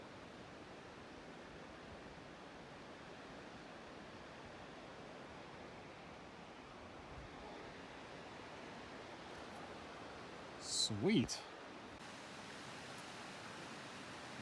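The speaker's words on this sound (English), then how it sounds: "Got this amazing river right here" A river flows near Mural Glacier, heard as a steady broadband rush of water throughout, with a brief spoken word partway through.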